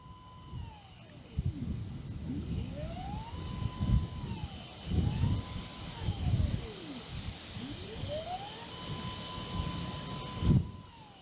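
A ZWO AM5N harmonic telescope mount's motor runs with a quiet whine that repeatedly sweeps up to a steady pitch, holds, then glides back down, heard close beneath low background rumble.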